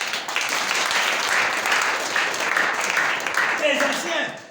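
A church congregation applauds the Lord in a steady, dense wash of clapping that runs throughout, with voices mixed in underneath.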